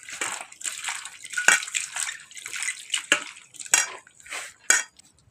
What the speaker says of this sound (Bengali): এইটা আমি এবার ধুয়ে ফেলে দেবো পরিষ্কার করে।